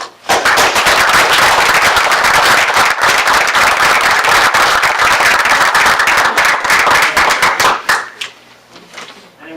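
Audience at a borough council meeting applauding, dense loud clapping from many hands sustained for about eight seconds before tapering off into quieter room noise.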